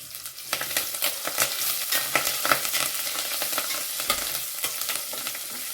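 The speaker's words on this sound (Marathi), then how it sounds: "मस्त अशी फोडणी आपली परतून घेऊया" Hot oil sizzles continuously with crackling pops as a tempering of red chilli and asafoetida fries, while a spoon stirs now and then, close by.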